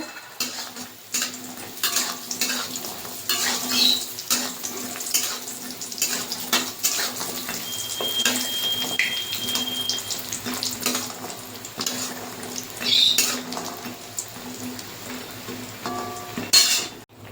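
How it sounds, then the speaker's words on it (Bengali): Lentil dumplings (bori) frying in hot mustard oil in a wok, with a continuous loud sizzle and occasional clinks and scrapes of a utensil against the metal. "কড়াইতে এবার সরষের তেল দেব। গরম হয়ে গেছে, এখানে আমি বড়িটা ভেজে নেব।"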